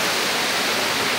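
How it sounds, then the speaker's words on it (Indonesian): Rason waterfall at Daik, Lingga pours in a loud, steady broadband rush of falling water that fills the whole short moment with no other sounds. "Ini Air Terjun Rason"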